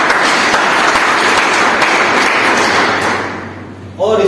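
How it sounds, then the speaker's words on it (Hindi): Loud, crowded clapping from a seminar audience at a network marketing event, with thumpy hits in the mix, trailing off near the end before a voice starts speaking. "एक बार जोरदार ताली"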